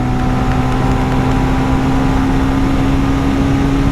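Bajaj Avenger 220 Street motorcycle, a 2026 model, drones on under a constant engine hum with heavy wind rush while riding. The sound stays even throughout, with no speech.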